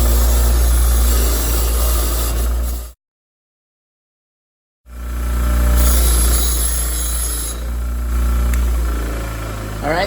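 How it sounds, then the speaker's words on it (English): Grinder cleaning a coil bracket for a Honda CB350 vintage motorcycle, a loud steady grinding roar with low rumble that cuts out for about two seconds, then resumes. "get some power going to your grinder"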